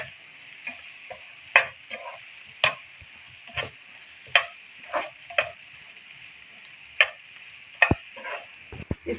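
Chopped fresh coriander being stirred into Indian-style egg bhurji on a pan or tava, a series of sharp spatula scrapes and taps at irregular intervals over a faint sizzle, close and clear with no talking.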